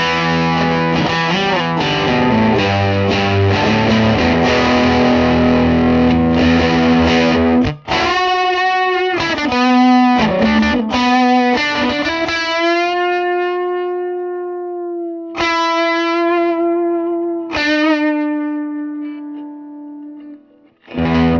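Heavily distorted electric guitar through a Milkman Hi-Fi 5W mini tube amplifier cranked three-quarters up, loud and saturated, starting with a dense chugging riff then ringing sustained notes and bends that hang and decay.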